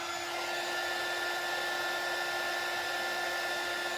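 A hair dryer blows steadily to dry acrylic paint on a wooden birdhouse, a loud constant close whine and rush of air without any pauses.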